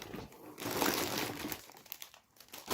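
Plastic snack bags of Lulu Puffs tomato-flavoured puffs crinkle and rustle continuously as they are handled close up, loud and busy with a brief lull near the end.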